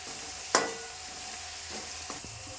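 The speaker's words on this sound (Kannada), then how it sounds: "ಈಗ ಕಟ್ ಮಾಡ್ಕೊಂಡಿರೋ ಉಳ್ಳಾಗಡ್ಡಿ ಹಾಕೋರಿ. ಒಂದ್ಸರಿ ಎಲ್ಲ ತಿರ್ಗಾಡ್ರಿ." Chopped onions dropped into a hot pan with garlic and stirred, a soft steady sizzle with a sharp clatter at the start and a few light scraping knocks of the spoon.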